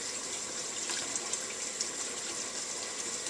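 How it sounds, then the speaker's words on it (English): Water runs steadily from a faucet over a freshly peeled hard-boiled egg as its shell bits are rinsed off while making potato salad: a constant hiss and splash, fairly close and alone. "crack it, peel it, make sure all the shell is rinsed off"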